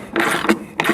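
A bolt is tightened during removal of a shock, giving three quick ratcheting bursts of metallic clicking close by within about a second.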